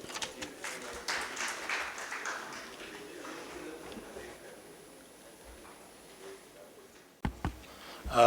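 Audience clapping at a Bharat Tex 2024 roadshow event in Indore as a speaker is welcomed on stage, moderate applause from a small hall crowd that thins and fades out, followed by a few thumps.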